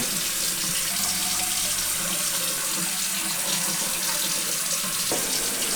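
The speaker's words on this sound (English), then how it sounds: "turn the water on" A bathroom tap runs in a steady, continuous stream while someone brushes their teeth, the water close and evenly loud throughout with no talking.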